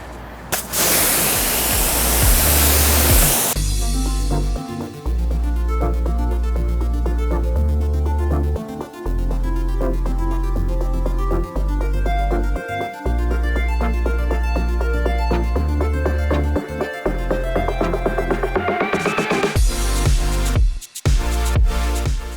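Pressure hose rinsing a car with spot-free water during a Koch-Chemie detailing wash, with loud hissing bursts of spray at the start and end and background music playing throughout.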